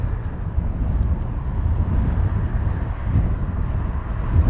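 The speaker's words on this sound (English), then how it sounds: "The wind comes and goes, and every time I say it's not windy, it picks up like a gale force wind." Steady gusty wind at Heathrow Airport rumbles into the microphone, a constant low roar that swells and eases without pause and with no talking.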